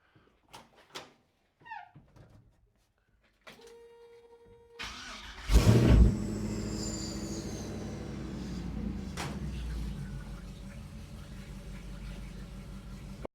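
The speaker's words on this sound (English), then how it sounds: "I'm going to fire up the truck. We'll see how it's running. See how loud this exhaust is." A 1971 Chevrolet C10 pickup with an LS engine swap cranks and fires up after a few clicks and a door thud, then settles into a loud, rumbling idle through its exhaust, close by and continuous.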